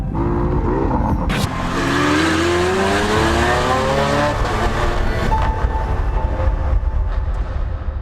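A high-revving supercar engine roars loudly, its pitch climbing steadily through the gears, close and continuous.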